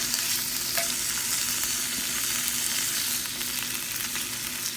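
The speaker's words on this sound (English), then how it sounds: "throw in the garlic and the Kalamata olives into the skillet to warm them up" Garlic and Kalamata olives sizzling in a hot skillet, a steady bright crackle and hiss with occasional stirring, close and continuous with no talking.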